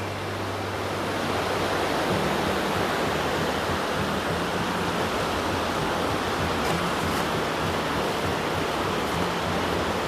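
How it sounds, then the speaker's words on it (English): Noland Creek rushes loudly and continuously beside a trail, a dense steady wash of flowing water with no voices over it. "More of Noland Creek."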